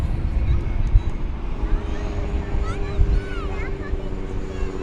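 American flight 1647 airliner rolling for takeoff at DFW Airport, a low, rumbling jet roar from a distance under ongoing talk and outdoor noise, with a few bird chirps.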